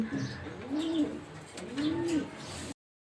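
A racing homer pigeon coos twice in low, rounded, rising-and-falling calls, close and fairly quiet, with faint background noise between them.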